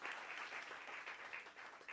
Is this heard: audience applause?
yes